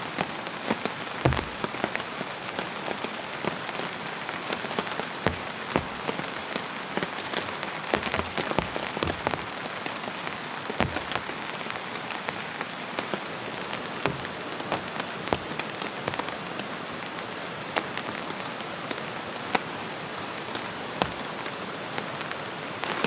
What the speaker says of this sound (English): This is the first time that I've camped in this spot with some rain falling.